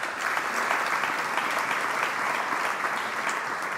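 An audience at a community foundation's 50th anniversary philanthropy celebration claps in sustained, dense applause filling the hall from start to finish.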